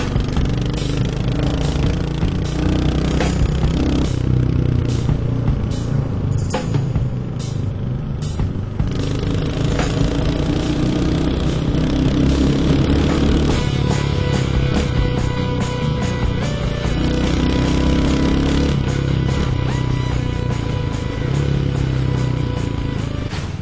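Royal Enfield Hunter 350 motorcycle on a ride, its single-cylinder engine loud and close, rumbling steadily with pitch changes as it accelerates and shifts, no talking.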